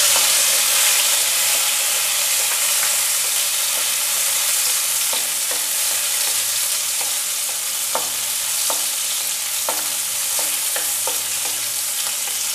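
Chopped tomato sizzling in a hot frying pan, a loud steady hiss of frying broken by occasional clicks of stirring, with no one talking.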